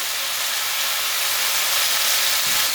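Sliced onion sizzles in a pot with pumpkin, a steady, loud, bright hiss that runs continuously with no pauses and no talking.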